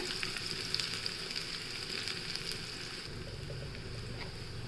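Sliced shallots sizzle steadily in hot coconut oil, tempering for an Onam cucumber kichadi. The frying hiss runs close and continuous throughout, with faint crackles and stirring noises.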